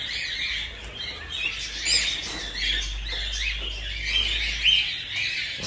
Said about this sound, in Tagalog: So ito naman mga parakeet tayo.